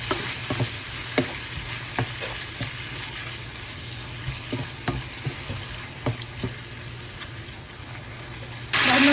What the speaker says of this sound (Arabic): راح نقلب المكونات سوا لحد ما يستوي عندي الدجاج ويتحمر